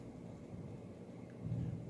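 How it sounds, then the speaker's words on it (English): Distant thunder rumbles low and soft, swelling slightly toward the end, beneath a steady wash of background noise. "It's kind of thundering."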